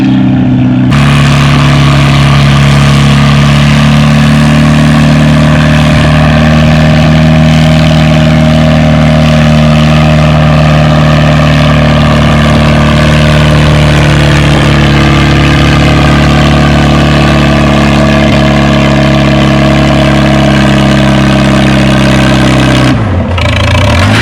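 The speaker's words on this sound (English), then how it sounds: "Up first, we got that Farmall 350 we've seen a few times." A Farmall 350 tractor roars under load during a tractor pull, its engine loud and close with a sustained droning pull that shifts slowly in pitch before cutting off near the end.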